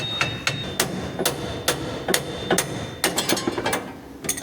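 Sharp metallic hammer knocks on rusty Classic Mini drivetrain parts with fresh greased bearings nearby, about a dozen blows in an irregular rhythm, some in quick clusters, close and loud.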